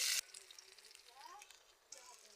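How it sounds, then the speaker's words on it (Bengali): Chopped onion and green chillies hit hot oil in a wok, starting with a sharp loud burst of sizzle that settles into a faint, steady crackling fry. "কড়ার মধ্যে তেল দিয়ে দিচ্ছি আমি। কেটে রাখা পেঁয়াজ দিচ্ছি, কাঁচা লঙ্কা দিয়ে দিচ্ছি"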